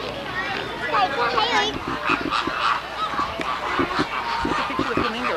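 Flamingos at Sea World give repeated nasal, goose-like honks in a busy stretch, mixed with nearby people talking over the calls.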